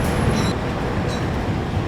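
The Argo Muria train pulling out of Gambir station: a steady, loud low rumble of rolling rail cars, with faint high squeals of wheels on track rising briefly at the start and again midway.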